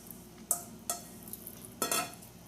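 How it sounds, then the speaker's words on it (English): Spinach pakora batter with salt and garam masala being stirred in a bowl, a few sharp scraping clinks and wet mixing strokes at uneven intervals, close and fairly quiet, with no talking. "the salt and the garam masala and mix it up really well"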